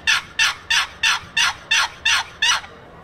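A wooden box turkey call scraped back and forth, giving eight evenly spaced raspy yelps, loud and close with no talking.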